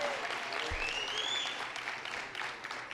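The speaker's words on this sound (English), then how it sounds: "Let's give Marcos Crespo a big round of applause." Round of applause from a rally crowd at Casita Maria in support of Puerto Rico, fairly faint and distant, a dense steady patter with a few whistle-like tones over it.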